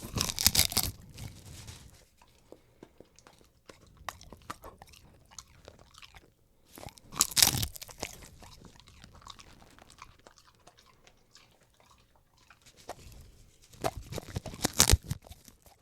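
A pet crunching and chewing seaweed up close: bursts of crisp crunching and tearing bites at the start, around the middle and near the end, with quieter wet chewing and rustling between them and no talking.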